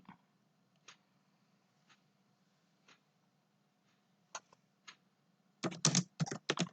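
Typing on a computer keyboard while making a Flash animation: sparse single key taps spaced about a second apart, then a quick dense burst of keystrokes at the end, close and clear over a faint hum.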